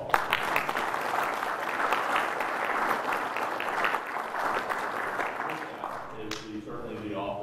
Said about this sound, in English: let's give the committees a big round of applause.